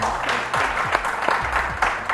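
A studio audience applauds a quiz show winner, steady dense clapping filling the whole moment at moderate loudness.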